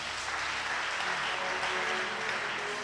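A church congregation applauds and cheers in praise, dense steady clapping filling the room from start to finish.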